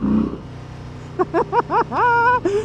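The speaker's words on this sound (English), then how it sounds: "That's a stock exhaust too, and the bike sounds like this." A 2025 Harley-Davidson Low Rider S V-twin motorcycle with stock exhaust idles, then revs in several quick sharp bursts, ending in a longer rising rev; close and loud.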